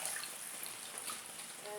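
A cooking pot used for boiling is washed under running water, a steady hissing trickle and splash with faint clinks, close and without talk.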